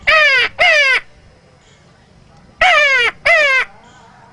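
A man imitates a mountain crow, giving four loud, harsh caws in two pairs separated by a pause, each call rasping and close.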